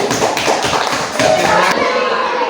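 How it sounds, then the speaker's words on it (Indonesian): A classroom group applauds together in a steady, loud run of many overlapping claps that fills the whole stretch, close by and with no talking over it. "tepuk tangan buat kelompok 1"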